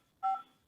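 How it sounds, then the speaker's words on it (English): A single telephone keypad tone, one short clear beep of about a fifth of a second, quiet and alone, entered as part of a meeting pin on a dial-in call. "Enter the pin followed by the pound key."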